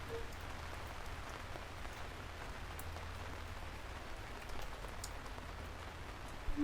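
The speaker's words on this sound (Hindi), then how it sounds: "अचानक बारिश होने लगी" Steady, faint rain falls on surfaces in an even, continuous patter with scattered heavier drops, heard alone without voices.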